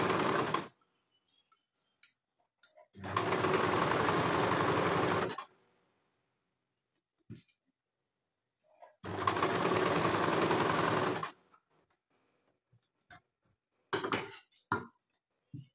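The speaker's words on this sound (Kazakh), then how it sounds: "Енді осылай тігіп шығамын." Sewing machine stitching fabric for an Uzbek-style garment, running in two steady bursts of about two and a half seconds each, with quiet handling clicks between and after them. No voices.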